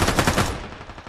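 Automatic gunfire from the shooter video game Ring of Elysium, a short rapid burst of loud cracking shots that quickly fades out.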